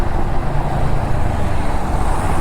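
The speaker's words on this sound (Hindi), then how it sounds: "अभी जो है आप ट्रैफिक देख सकते हो द्वारका एक्सप्रेसवे पे कितनी ज़्यादा है" Dense evening traffic on Dwarka Expressway, a steady continuous roar of cars, buses and trucks heard close by from a motorbike, loud and even throughout with no talking.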